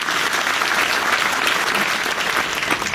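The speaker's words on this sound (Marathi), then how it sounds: "टाळ्या वाजव त्याच्यासाठी." Audience applause fills the clip, a loud continuous wash of clapping from a crowd at a live talk or lecture event, steady throughout without any voices.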